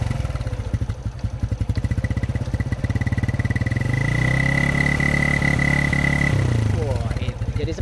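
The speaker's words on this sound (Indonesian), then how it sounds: "suara dari Honda Revo 100 yang baru aja saya beli" A 2007 Honda Revo 100 motorcycle idling close by with a steady putter, briefly rising in revs with a faint whine before dropping back to idle.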